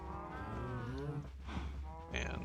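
Freshly grown cows in Minecraft let out a long, drawn-out moo followed by a second, shorter one, moderately loud against a faint background.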